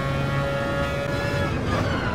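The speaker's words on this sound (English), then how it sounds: "I really like the noise of the car." Engine of the Mazda RX-Vision GT3 Concept '20 in Gran Turismo, holding a steady loud drone that tapers slightly near the end.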